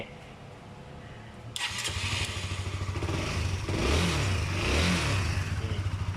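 A Honda CBR 150 motorcycle that had a shorted relay and trouble starting cranks briefly, then catches and settles into a close, throbbing idle, with the engine note rising and falling through a couple of small revs.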